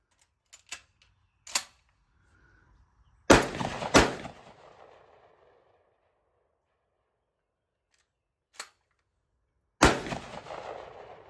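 A Mossberg 930 Tactical shotgun firing Federal shells, some loaded with steel shot, lets out a few loud sharp blasts with short echoing tails, separated by quiet stretches and small mechanical clicks.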